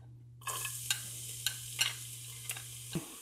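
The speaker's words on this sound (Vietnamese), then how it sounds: "Dầu nóng thì mình cho tỏi vô." Garlic dropped into hot oil in a pan, a soft steady sizzle with several faint scraping stirs and a low steady hum beneath, fairly quiet and with no talk.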